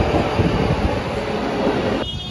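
An Istanbul metro train running, loud and close, with a continuous rumbling roar of wheels on rails that cuts off abruptly near the end.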